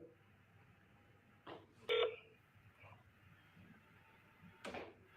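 A telephone dials a number, with a short burst of tones followed by a few faint clicks and bumps against a quiet background.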